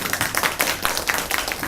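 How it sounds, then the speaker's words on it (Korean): An audience at a humanities lecture applauds to welcome the professor, a short burst of brisk, fairly sparse hand clapping from a small crowd close by. "우리 조연설 교수님을 뜨거운 손뼉으로 환영해 주시겠습니다"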